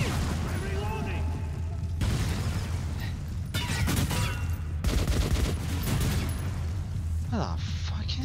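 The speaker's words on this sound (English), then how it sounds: "I have no idea where I'm shooting, I'm just gonna start shooting." Gunfire in the video game Metro 2033 Redux: repeated loud bursts of shots and booms in quick succession across the whole stretch, with someone talking over the shooting at times.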